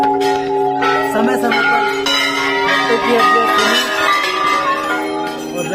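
Many temple bells clang at the Golu Devta temple in Chitai, Almora, a dense loud ringing throughout with someone speaking over it.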